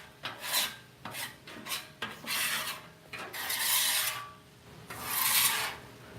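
Metal scraper dragged across a grill surface to clean it, a few short scrapes followed by longer rasping strokes, close and loud with no talking.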